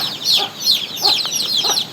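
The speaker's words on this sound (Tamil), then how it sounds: "கோழி குஞ்சுகள் பாருங்கள்" Close chirping of chicks with a native-breed hen's low clucks mixed in, a busy, continuous twittering that rises and falls.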